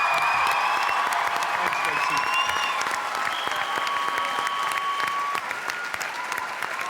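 Large studio audience applauding steadily with some whistles and cheers at a telethon closing show, a dense loud wash of clapping lasting throughout with faint voices beneath.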